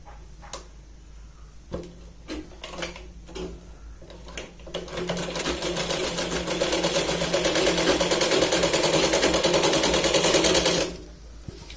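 Sewing machine stitching the neck of a Punjabi dress: a few short bursts and taps at first, then a long, loud, steady run of rapid stitching that stops abruptly, close by with no talk.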